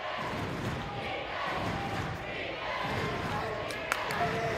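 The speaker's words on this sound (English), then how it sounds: "Crowd is loud." A loud crowd roars at a girls' varsity high school basketball game, a sustained wall of cheering and voices in a gym, with a few sharp thuds and squeaks near the end.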